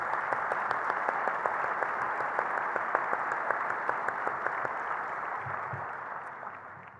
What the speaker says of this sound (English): let's have a round of applause for all of us who are part of this amazing conservation